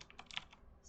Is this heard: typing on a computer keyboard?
yes